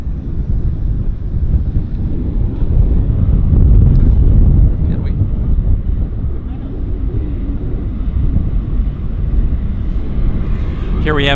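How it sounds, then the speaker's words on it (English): An inbound Pacific Coastal Beech 1900 passes near Vancouver Airport, giving a steady low drone of propeller aircraft with wind noise across the microphone. People talk over it. "Here we have an inbound Beach 1900 Pacific Coastal."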